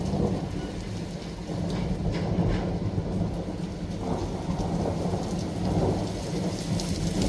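Low, continuous thunder rolls under steady, heavy rain during a van-life meet-up at Litchfield, the rumbling swelling and easing without any clear crack.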